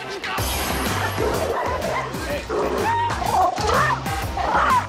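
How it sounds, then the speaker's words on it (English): A Chihuahua mix barks and yips insistently on a walk, sharp repeated barks with whiny whimpers in between, close and fairly loud, while a person talks over it. "He's barking at other dogs."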